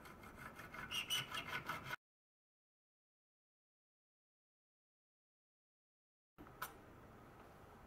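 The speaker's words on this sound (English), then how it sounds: "I'm just going to cut that out and I'll bring you over to the saw and the vise" A mini hacksaw works through bone clamped in a vise, giving about two seconds of quick, rhythmic rasping strokes, then silence and a faint trailing scrape.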